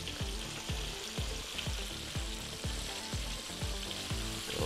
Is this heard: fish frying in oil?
yes